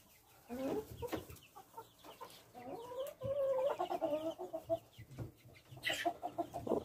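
Several hens clucking in a chicken coop, with repeated close, fairly quiet clucks and murmurs in irregular bursts and a brief higher squawk near the end.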